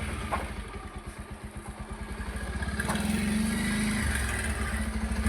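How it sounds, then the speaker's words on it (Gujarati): A motorcycle engine idles with a steady close putter, then its pitch rises slightly as it revs, running alone without talk. "મારું બાઈક હું બાઈક વાળું"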